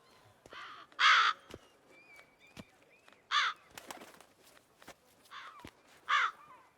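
Crows in The Witcher 3 give several loud, harsh caws in separate bursts, spaced about two seconds apart. Faint clicks and soft rustling fill the gaps between calls.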